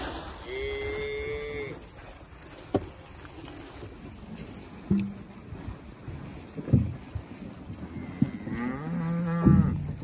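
Cattle mooing on a farm during calving season, several long, loud bellowing moos from nearby animals spaced through the clip, with wind noise on the microphone and occasional bumps.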